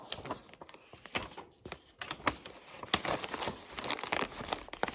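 A plastic bag crinkles and crackles as it is stuffed into an envelope, with irregular bursts of rustling that get louder and busier toward the end, close up and with no talking.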